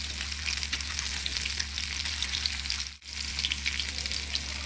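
Fish frying in a pan sizzles steadily, close and continuous, with one brief dip midway.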